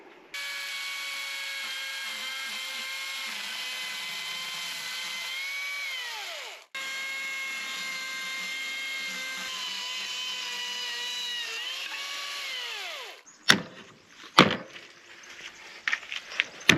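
A power tool whines in two long sustained runs, each winding down at its end, while cutting clamped pieces of sanded wood, followed by a few sharp knocks and clatters near the close, with no talk.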